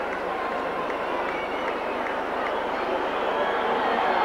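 Large rugby league stadium crowd cheering and applauding after a try, a broad steady roar that swells slightly toward the end, heard from a distance.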